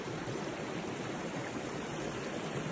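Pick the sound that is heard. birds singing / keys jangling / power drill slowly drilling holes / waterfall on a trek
waterfall on a trek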